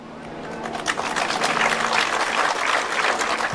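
An Indian diaspora audience in Australia claps at a Gandhi statue unveiling, the applause swelling from a few claps into a full, dense round that holds steady.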